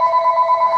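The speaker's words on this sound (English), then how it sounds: "It's a phone ring?" A phone rings near a baby with a steady, warbling electronic tone pulsing in quick even beats, clear and close for a brief moment.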